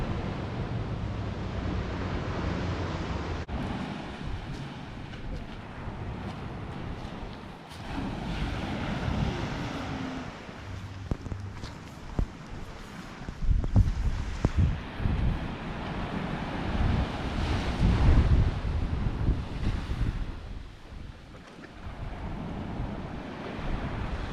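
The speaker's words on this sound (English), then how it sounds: "And this is gorgeous Benagil beach. Clean, pristine, wonderful." Ocean surf at Benagil beach on the Algarve coast of Portugal, a steady broad wash of waves with gusting wind buffeting the microphone and swelling in the middle, heard outdoors with no talking.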